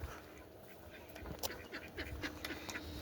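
Ducks quacking on a canal at a fishing spot, a run of short, fairly faint calls scattered over steady outdoor background noise, with no talk.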